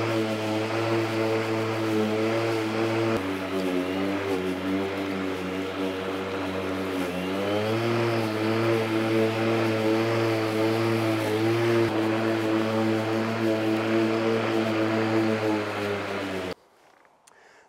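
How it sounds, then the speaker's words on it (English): A Kress 60V 51cm self-propelled battery lawn mower with the grass bag fitted mows, giving a steady, fairly loud motor whir with slight pitch shifts as it moves before cutting off abruptly near the end. "we have now done a couple of passes up and down with the mower with the bag on"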